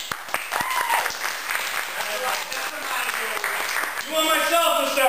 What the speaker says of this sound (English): If you would like Montaigne to start, round of applause.